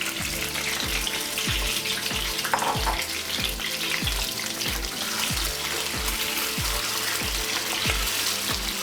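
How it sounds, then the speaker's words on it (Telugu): Eggs and prawns fry in a pan with a steady, loud sizzle and crackle throughout, plus a faint rhythmic low thumping beneath it. "ఇవన్నీ ఫ్రై చేసుకుందాం."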